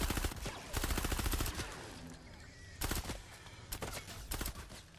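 Rapid-fire bursts from a Spec Ops SMG in Fortnite Save the World rattle out in quick, dense strings of shots, loud and close, split by short pauses with game noise between.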